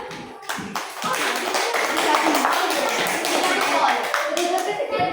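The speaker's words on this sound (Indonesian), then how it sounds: "Tepuk tangan." Students in a classroom burst into applause, a dense, close clatter of many hands clapping steadily for several seconds after a few scattered first claps.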